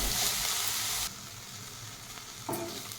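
Onions, tomatoes and garlic frying in a pan for a stuffed capsicum masala curry, a steady close sizzle that softens partway through, with a brief stirring scrape near the end and no talking.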